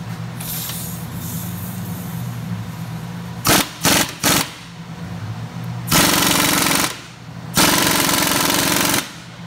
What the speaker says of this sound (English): So now when I tighten this down, this will push the ball joint into where it needs to be.